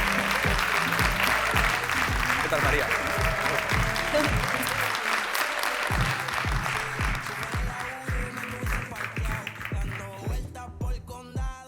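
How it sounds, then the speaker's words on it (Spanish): Sustained crowd applause welcoming an athlete at a sports awards event in Aragón, dense and loud for most of the time, thinning toward the end as a voice speaks over it. "quiero pedir un fuerte aplauso para recibir a Escampar la Boira"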